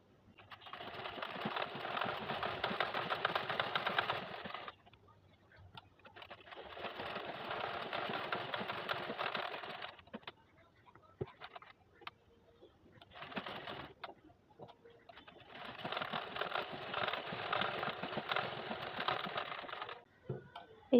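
Sewing machine stitching a lock stitch in bursts, running for a few seconds, pausing, then starting again, with a rapid mechanical clatter and quiet gaps between runs.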